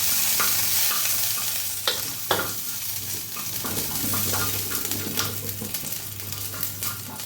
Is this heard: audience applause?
no